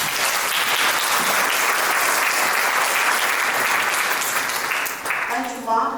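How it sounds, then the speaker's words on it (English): An audience at a conference network launch at UNESCO in Paris gives sustained, dense applause, filling the hall evenly before it tapers slightly at the end as a voice begins. "So let's clap for ourselves."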